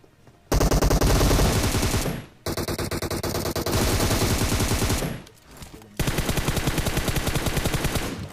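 Sustained automatic gunfire from a firefight in the mobile battle-royale game BGMI, loud and close, in several long rapid bursts broken by brief pauses.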